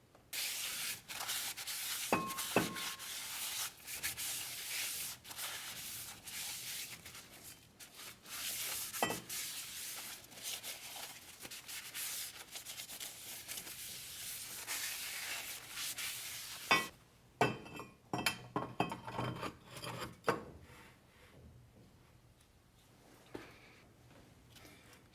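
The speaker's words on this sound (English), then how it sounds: "we have to remove this oil that they put on these rotors at the factory so they don't rust" A rag rubs steadily across a new rear brake rotor for a Mercedes E350, wiping off factory anti-rust oil. The sound is a continuous close scrubbing hiss that breaks into shorter strokes and light knocks near the end.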